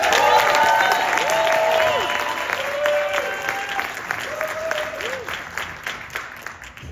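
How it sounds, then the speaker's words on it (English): Festival crowd applauds at a live TV pitch event. The clapping is steady and fairly loud, with a few cheers and whoops rising over it, then slowly fades. "Can we get a huge round of applause?"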